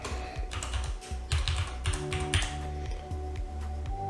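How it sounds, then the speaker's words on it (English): Rapid typing on a computer keyboard, a close, steady patter of key taps continuing for about four seconds with no voices. "For Sienna, we're going to type in Missouri City."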